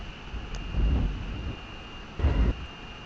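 A plane takes off in the Simple Planes flight game, its engine a steady drone with two deep rumbling surges and a thin high whine throughout.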